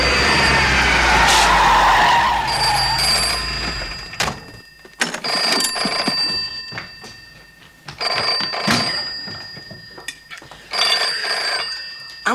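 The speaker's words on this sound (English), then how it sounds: "answer the phone" A telephone bell rings in repeated bursts after a loud car skid in a 1982 film scene. The ringing pulses on and off over continuous background noise.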